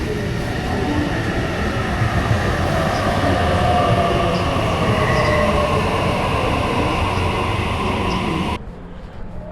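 A train rumbles steadily nearby with a loud, continuous rolling roar and faint wheel squeal, cutting off abruptly near the end, heading to Parramatta.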